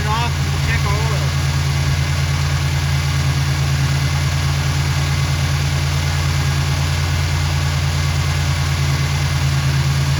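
A GM 3800 Series I engine idles steadily with a low, even hum and constant drone throughout, while someone talks over it.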